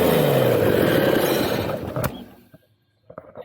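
Farmall F20 tractor engine cranking and chugging loudly as it tries to fire, a steady rough churn that fades out after about two seconds, followed by a few faint clanks.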